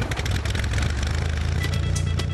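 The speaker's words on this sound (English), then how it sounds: "Sounds more like a lawnmower than a helicopter." Helicopter piston engine just started, running with a steady, rough, lawnmower-like chug, loud and close throughout with no talking.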